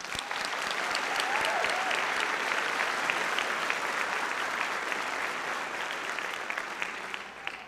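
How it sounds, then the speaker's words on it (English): Sustained applause rolls through a crowd honouring graduates at a graduate school spring commencement, broad and even throughout, tapering slightly toward the end with a faint whistle or cheer early on. "Please join me in a round of applause for all of our outstanding graduates"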